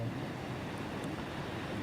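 Surf breaking at Huntington Beach, a steady broad wash of whitewater and wind with no distinct crash, even and moderately loud throughout.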